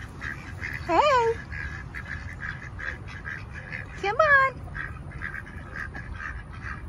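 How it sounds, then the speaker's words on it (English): A duck quacks in a Zone 9 home vegetable garden with square-foot beds, giving two short bursts of calls about three seconds apart, close by, while someone speaks softly between them. "Hey, little brave duck."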